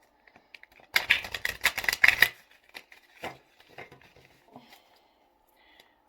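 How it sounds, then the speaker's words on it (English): A quick burst of tarot cards riffling together in a dense flutter, followed by a few softer slides and taps as the deck settles. "I'll do another shuffle on that one because that shuffle got a little stuck"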